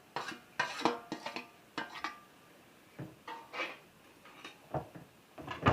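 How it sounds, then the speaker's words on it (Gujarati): A spoon stirs and mixes batata poha, a dish of potato and flattened rice with lemon juice and chopped coriander, in a pan, making quiet, intermittent scrapes and metallic clinks with short pauses between strokes. "હવે મિક્સ કરી લઈએ"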